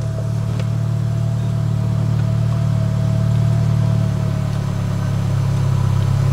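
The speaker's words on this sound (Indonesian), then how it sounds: "Saya akan nyalakan mesinnya." A 2014 Nissan Evalia MPV with automatic transmission idles steadily at close range, giving a loud, even engine drone with no talk over it.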